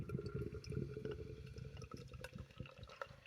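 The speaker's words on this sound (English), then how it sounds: "so let's pour it out." Brew By Numbers Mocha Porter, a 6.5% beer, poured from a can into a glass, a soft gurgling, splashing stream with faint bubbling, quiet and close, no talking.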